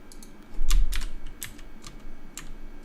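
Quick clicks of a computer keyboard, a handful of irregular keystrokes tapping close by over a quiet room background.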